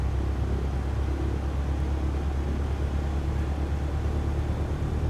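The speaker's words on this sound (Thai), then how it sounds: "ดันเครื่องยนต์ไปนิดนึงนะครับ แท็กซี่ไปที่รันเวย์เนาะ" A simulated airliner engine in Flight Simulator, throttled up slightly to taxi toward the runway, gives a steady, loud, low rumbling drone with no voices over it.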